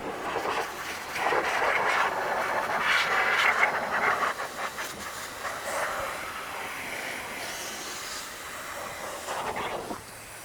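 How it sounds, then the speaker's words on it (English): Air blower drying a freshly cleaned car wheel after a wheel and tire cleaner, a steady broad hissing rush of air that swells and shifts for several seconds before easing off, close and fairly loud with no talking. "I'm gonna use the blower to kind of dry it off"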